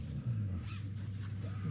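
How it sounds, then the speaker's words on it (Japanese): Artificial engine sound from a Toyota manual electric car: a faint, steady low drone like an idling motor, holding an even pitch throughout. "エンジンの音がするんです。"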